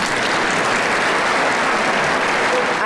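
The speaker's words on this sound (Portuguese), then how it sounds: "Parabéns ao nosso cidadão goiano, a ele uma salva de palmas." An audience at a solemn ceremony in the Goiás legislative assembly gives a round of applause for a new honorary citizen, a loud, dense and continuous wash of clapping filling the whole stretch.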